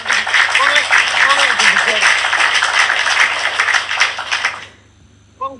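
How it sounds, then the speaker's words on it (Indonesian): Studio audience clapping during a live comedy stream, a dense steady patter of many hands sustained for several seconds with voices chattering underneath, then cutting off abruptly into near silence. "Tepuk tangan."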